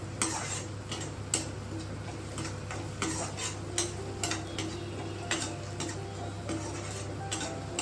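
Leafy greens with turmeric and coriander are stirred in a pan for a Telangana-style dish, with a steady run of light scraping and clinking strokes over a constant low hum and faint sizzle.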